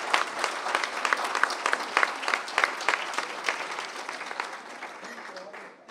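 Audience at a political meeting breaking into applause, a dense burst of many hands clapping at close range that gradually thins and fades toward the end.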